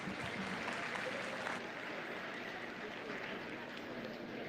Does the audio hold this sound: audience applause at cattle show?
yes